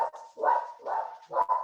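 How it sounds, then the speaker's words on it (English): A dog barks at a distance during an indoor interview, a quick run of four muffled, moderately faint barks in an uneven rhythm. "That's my dog."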